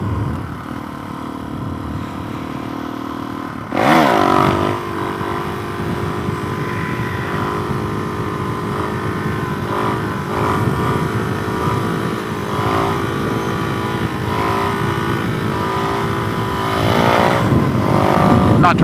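A Suzuki DRZ 470 motorcycle with an FCR 39 carburetor pulling a third-gear clutch-up, the engine snapping up sharply then holding a loud, steady, rising drone close by for many seconds.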